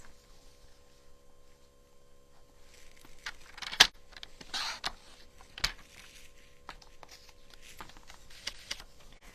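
A paper trimmer with a dulling blade slices paper in a quiet room, giving a few faint, brief scraping swipes and light rustles over a low background hiss.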